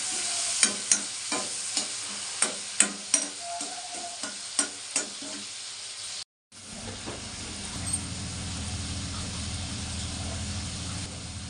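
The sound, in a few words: tomatoes with salt frying and being stirred in a pan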